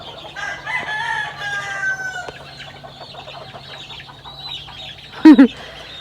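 A flock of chickens clucks and calls steadily, with one rooster crowing in a long drawn-out call early on and a sharp, loud squawk near the end.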